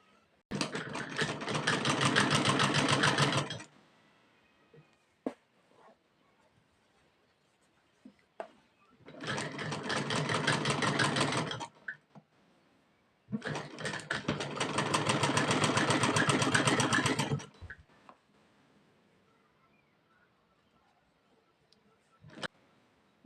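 Sewing machine stitching the belt of a Patiala salwar in three loud, fast bursts of rapid mechanical clatter, separated by quiet pauses with small handling clicks.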